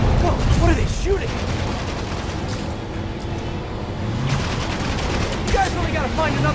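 Enemies firing guns in a Spider-Man DLC video game produce a loud, dense, sustained roar of rapid shots with mechanical clatter. The barrage swells and eases slightly across several seconds.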